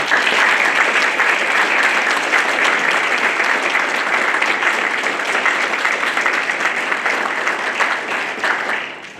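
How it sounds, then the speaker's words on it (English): A symposium audience in mid-Missouri breaks into loud, sustained applause, a dense, even roar of many clapping hands that holds for several seconds before easing slightly at the end. "Round of applause for our wonderful"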